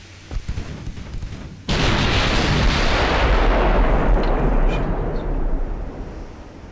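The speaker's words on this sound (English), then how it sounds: "The next 14-inch hit" Battleship firing 14-inch naval guns in the Ultimate Admiral Dreadnoughts naval warfare game: a sudden heavy cannon boom that rolls into a long, loud rumbling tail, preceded by a few faint thumps.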